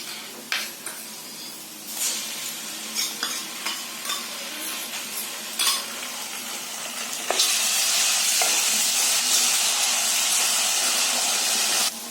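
Ginger-garlic paste frying in a pan for a village-style vegetable dish, with a steady close hiss and scattered stirring scrapes that swell into a louder, continuous sizzle partway through.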